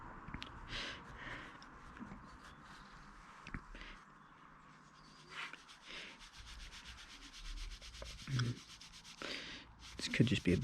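Abrasive pad scrubbing a Subaru Impreza STI top mount intercooler during cleaning, irregular rubbing strokes in short bursts, close and fairly quiet, with occasional handling knocks.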